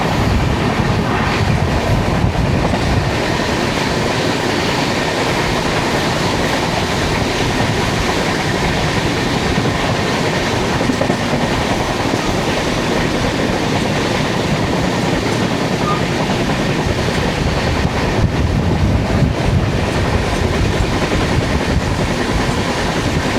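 The Okha - Ernakulam Express runs along the Konkan Railway with a flat wheel, producing a loud, steady roar of wheels on rails with continuous rattling throughout, heard from on board.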